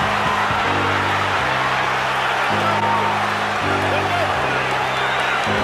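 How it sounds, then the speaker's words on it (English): A boxing arena crowd roars in a steady, loud wash throughout a light heavyweight title fight between Andre Ward and Sergey Kovalev, with commentators talking over the din. "Crowd rocking and rolling."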